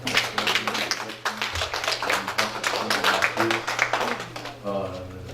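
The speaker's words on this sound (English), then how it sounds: "Give the Lord a round of applause" Scattered claps from a church congregation rise under ongoing voices and a low sustained hum, with rapid hand strikes running throughout.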